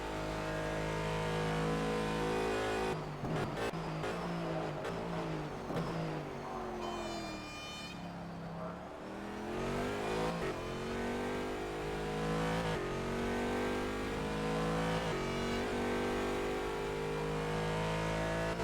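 A race car in a Bahrain endurance racing sim roars continuously near and loud, revving through rising and falling gear changes, with a brief high whine partway through and no talk.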